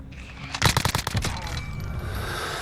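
Mini UZI submachine gun in Call of Duty Modern Warfare fires one fast, loud burst of rapid shots, then the room ring fades into a steady background hum.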